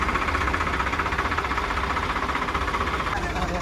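A heavy Swaraj tractor diesel engine chugs steadily as it drives in, with a rapid knocking rhythm, loud and close, rumbling continuously without a break.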